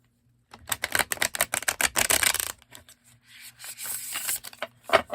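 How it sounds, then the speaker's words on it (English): Thick cardstock tarot cards being shuffled by hand, a quick run of crisp riffling flutters followed by a softer, steadier rubbing slide, close and alone with no talk. "We got a bit of a shuffle there."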